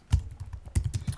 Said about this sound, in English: and I'm going to type in Jeff's test document.